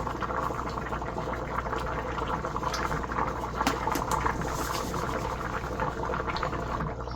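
A pot of pork bubbles and simmers steadily, a dense gurgling boil heard close with a low background hum and no voices.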